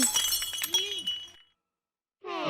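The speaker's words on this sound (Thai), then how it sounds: "แต่ดันทำขวดน้ำส้มตกแตกซะนั้น" A glass bottle of orange juice shatters in the Luigi's Mansion 3 video game, a bright crash with clinks among busy game effects, then about a second of silence before a short voiced sound.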